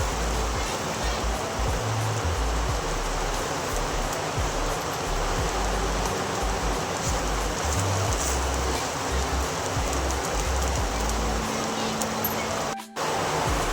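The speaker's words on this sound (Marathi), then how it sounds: "बाहेर पाऊस पडतोय, त्याचा आवाज येतोय" Steady rain falling outside, a dense continuous hiss holding evenly throughout, with a low hum and a brief knock near the end.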